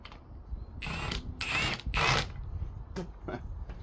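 A ratchet wrench with a socket, worked while scrapping a 1948 Ford, gives three loud bursts of rapid metallic clicking, followed by a few sharper single clicks and knocks, close up and without speech.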